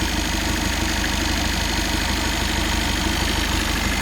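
A 2017 Peugeot Boxer van with about 250,000 km idles steadily at close range, a constant low mechanical hum with a faint regular ticking pulse, loud and even throughout with no voices.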